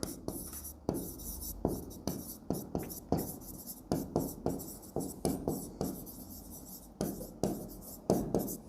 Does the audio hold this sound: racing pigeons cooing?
no